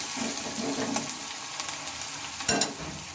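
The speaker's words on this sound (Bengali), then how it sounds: "তো চলো পেঁয়াজটাকে একটু লাল লাল করে ভেজে নেবো" Onions sizzle and fry in hot oil in a pan, a soft steady crackle broken by a couple of sharper stirring scrapes, fairly quiet with no voices.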